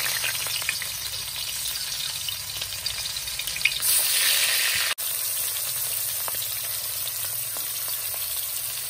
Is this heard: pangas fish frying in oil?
yes